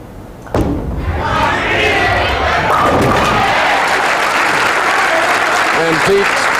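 At a professional bowling tournament, the Long Island Open, a crowd breaks into loud, sustained applause and cheering after a strike, with an announcer talking over it.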